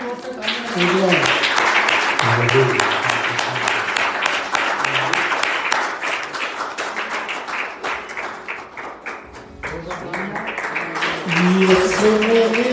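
A church congregation at a Sunday service breaks into loud, sustained clapping, with singing and a speaking voice carrying over it and the applause thinning out midway before swelling again.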